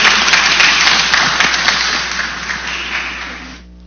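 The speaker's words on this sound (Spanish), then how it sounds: "Y un voto de aplauso para Fernando García" Audience applause at an educational forum on intercultural bilingual education in the Amazon, a dense, loud burst of clapping from many hands that holds steady, then thins and fades toward the end, with no talk over it.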